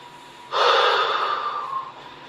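A strong, forceful exhale pushed out during an abdominal waist-slimming exercise, one sustained breathy rush lasting about a second and a half, close and loud with no talking.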